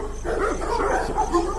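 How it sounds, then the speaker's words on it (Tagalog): A dog from a pet market barks and yips close by in quick, short bursts mixed with whimpering, loud over a low hum of surrounding activity. "ito na yung aso"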